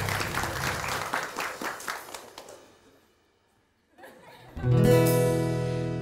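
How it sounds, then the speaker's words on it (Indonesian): A studio audience claps in a brisk burst of applause with some chuckles, fading away to near silence before loud music starts up. "Boleh tepuk tangan dulu dong buat Sarah dan Aldi."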